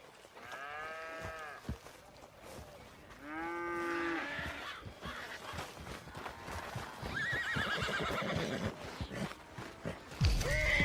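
A horse in Red Dead Redemption 2 neighs in several distinct bursts, with clopping hooves and scattered knocks between the calls, close and clear with no talk.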